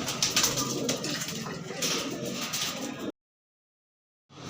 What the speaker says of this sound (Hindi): पंजाबी कबूतर है, ये पंजाब के आए हुए कबूतर है जी